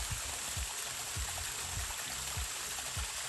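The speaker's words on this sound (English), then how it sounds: "there's a beautiful stream." A woodland creek flows past the ruins of an old mill along a backpacking trail, a steady soft wash of running water with faint low bumps, fairly quiet and continuous with no voices.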